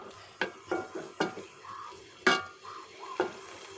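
Potatoes and koi fish sauté in oil in a pan, a low sizzle punctuated by repeated sharp clanks and scrapes of a spatula stirring against the metal.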